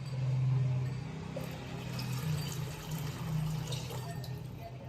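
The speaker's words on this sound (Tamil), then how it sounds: "6 கிளாஸ் தண்ணி ஊற்றிக்கிறேன்." Six glasses of water poured into a pot holding three glasses of rice, a steady close splashing pour with a low gurgling tone that continues for several seconds, with no talk over it.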